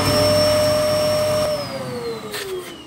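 Dyson DC01 vacuum cleaner fitted with a YV motor, running with a loud high whine and airy roar, then the motor pitch sliding downward as it winds down, no talk.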